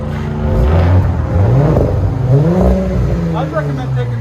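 A 2021 Audi S5 with a 3.0L turbocharged V6 and MBRP cat-back dual exhaust revs loudly up close, the note rising and falling through several throttle blips while a voice talks faintly beneath.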